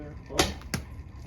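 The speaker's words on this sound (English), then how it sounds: "I'm shooting a heavier set of arrows" Two sharp arrow releases from a handmade board self bow, each a quick snap and whoosh in close succession, shooting a heavier set of arrows outdoors in cold weather.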